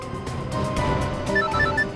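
A telephone ringing on and on without being picked up, in a Hindi crime-drama scene, with a repeating electronic ring tone over a steady background bed.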